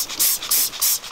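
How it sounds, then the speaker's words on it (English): Cleaner spray hisses over a dirt bike in rapid, close bursts, four or so loud pulses with short gaps between them, each a sharp airy hiss. "basically just spray the whole bike down"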